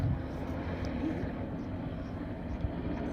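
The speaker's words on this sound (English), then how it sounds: "it'd be choppers flying over all the time" A helicopter flying overhead in Hawaii, heard as a steady, fairly faint engine drone that persists throughout.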